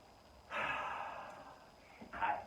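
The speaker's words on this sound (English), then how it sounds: "One more breath." Deep breath in through the nose and out, a long soft airy inhale-exhale followed by the start of another, close and fairly quiet during a dance warm-up.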